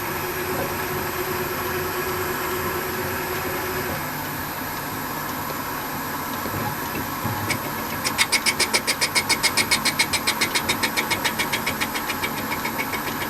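A metal lathe faces off a workpiece with a light half-millimetre cut while making lathe dogs, giving a steady machine drone that later turns into a fast, even, rattling tick.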